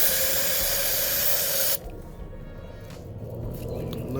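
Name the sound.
spraying liquid into valve spring holes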